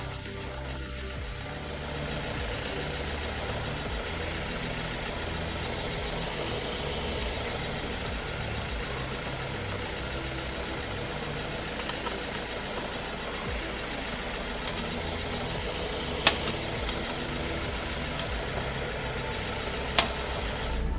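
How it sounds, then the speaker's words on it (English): A car engine idles steadily with a low, even rumble throughout during an oil fill of a ZF 6HP19 automatic transmission, a few faint clicks and knocks near the end. "Now that the engine is running, we need to carefully fill it a second time"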